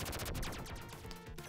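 The Thunder Cross arcade shooter pours out dense, rapid gunfire and crackling explosions in a continuous loud barrage, with no voices heard.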